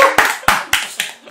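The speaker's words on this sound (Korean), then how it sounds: "박수 부탁드리겠습니다" Audience clapping at a Korean event welcoming a judicial scrivener guest: a few sharp, separate claps in a loose rhythm, close and fairly loud, with no other sounds.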